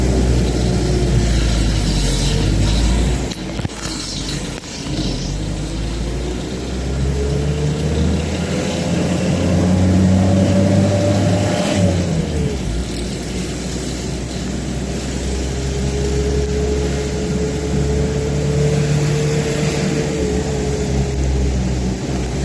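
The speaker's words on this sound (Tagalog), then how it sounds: "Mayroon pala dito nagka-traffic" Traffic on Sumulong Highway in Antipolo: a continuous close engine drone from a vehicle, with revving rising and falling as it moves through congestion, passing vehicles rumbling around it.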